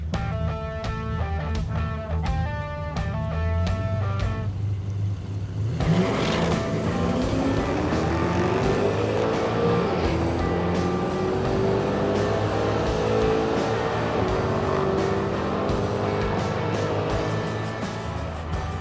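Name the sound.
Crusher Camaro car engine misfiring during drag strip run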